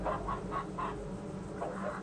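Chickens cluck in the farm horror video game Dreadfields: a run of about five short, rhythmic clucking bursts at moderate loudness over a steady low background hum, with no talking.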